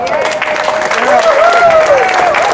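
A crowd at an outdoor rally applauds and cheers, steady clapping mixed with whooping voices and calls rising over the noise.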